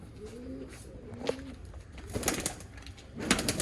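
An old line pigeon pair coos in soft, rounded calls, with a few more coos following close by, then brief rustling and scuffling.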